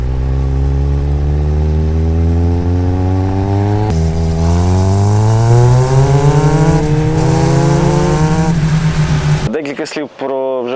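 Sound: motorcycle engine with carbon exhaust

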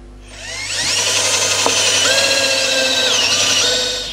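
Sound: power drill drilling holes

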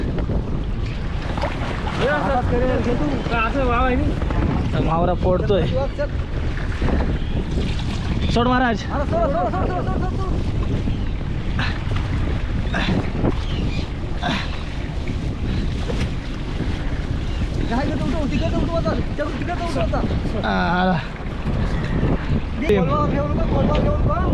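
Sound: fishing boat moving at sea

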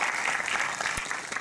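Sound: round of applause for Wagner da Fly

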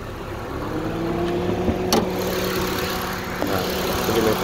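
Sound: 2013 Honda CR-V engine running

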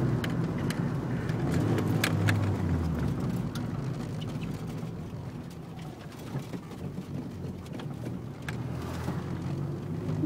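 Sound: Nissan 240sx car driving on road

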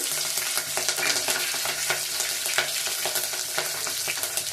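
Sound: frying peanuts and green chillies in a pan

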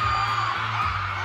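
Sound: concert crowd screaming and cheering

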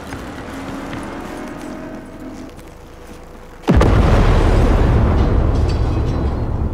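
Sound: vehicle exploding, Cyberpunk 2077 video game

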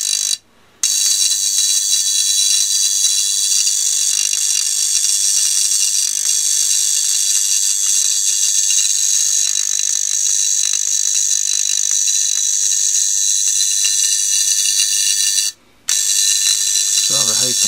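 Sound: spark gap with capacitor sparking

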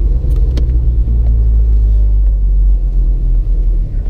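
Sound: Porsche 986 Boxster S cruising

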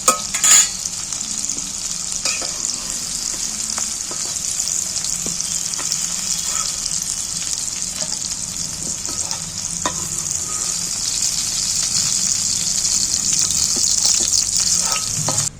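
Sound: yardlong beans frying in oil

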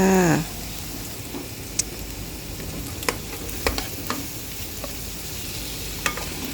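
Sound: stir-frying eggs with pork, then zucchini

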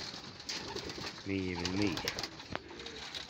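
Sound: pigeon cooing, local black seed pigeon

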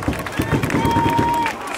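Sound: stadium crowd applause at baseball game

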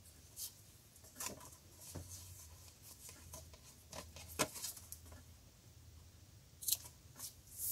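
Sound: scissors cutting off tatting thread tails

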